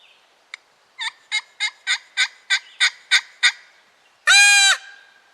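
A handheld turkey gobble call imitates a wild turkey gobble: one short click, then a loud, evenly spaced run of about nine rattling gobble notes, ending in a longer, higher burst, close and alone.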